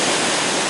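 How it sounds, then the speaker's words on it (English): Heavy water pours and crashes down a cliff into a misty, boulder-strewn valley in a forest recreation area, a steady, loud, broadband roar with no pauses. "the crashing water echoes and reverberates throughout the valley"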